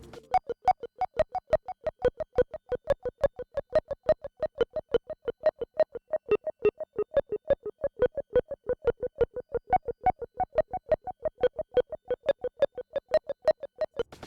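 A Eurorack tape delay module set to an aged, worn-tape character repeats a steady run of short plucked notes at a quick, even pulse, each echo slightly dulled and wavering, with no voices.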